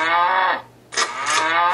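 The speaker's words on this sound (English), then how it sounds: "You get the farm animal sounds." A cow mooing in the farm game Farm Mess Pro, two loud drawn-out moos separated by a short silence, clear and close.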